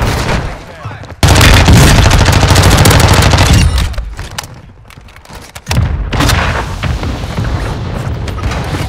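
Gunfire in the video game Warzone 2.0, loud sustained bursts of automatic fire and booming blasts that cut off abruptly, pause, then resume heavily, with players talking over the shooting.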